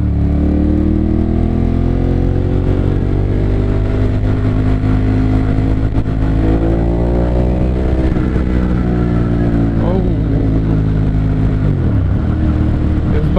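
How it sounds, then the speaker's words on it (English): A 2014 Ducati Monster 1200 S motorcycle engine idling loud and close, then revving up in rising sweeps and settling back, with a deep throbbing note throughout and no speech. "Bike sounds delicious."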